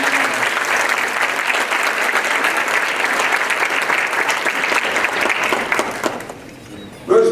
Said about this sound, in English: So can we have a round of applause for all our freshmen?